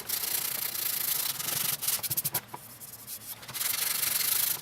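Z-epoxy finish is sanded off the top of a Gibson Les Paul Studio guitar body in close, raspy strokes. The rubbing is steady at first, turns into quick short passes, then goes back to longer strokes.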